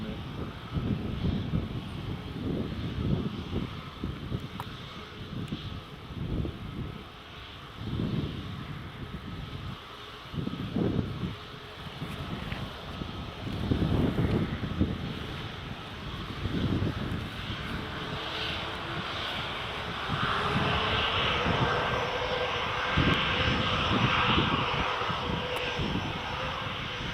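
A TUI airliner's jet engines roar during a storm crosswind at Newcastle International Airport, a steady broad rumble with gusty wind buffeting, swelling louder toward the end.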